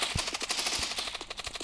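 Rapid gunfire in the mobile shooter Block Post crackles in a dense, steady automatic burst, with thumps landing every fraction of a second. It is moderately loud and continuous, with no speech over it.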